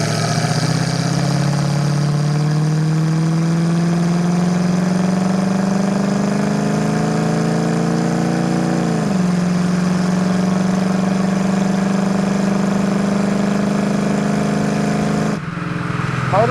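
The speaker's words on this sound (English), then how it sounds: "Motor sounds good" A 1968 Ford Mustang with a 302 V8, fuel injection and automatic transmission runs steadily and loudly up close, engine pitch climbing gradually, dropping sharply near nine seconds, then holding before a brief change at the end.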